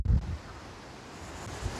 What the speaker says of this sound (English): Yeah, it's a windy one.